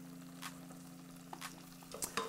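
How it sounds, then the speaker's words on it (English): Butter sizzles and crackles softly in a hot pan with garlic, with a low steady hum underneath and a few scattered pops and spoon scrapes. "a tablespoon of butter going into the pan now. You can hear it sizzling away."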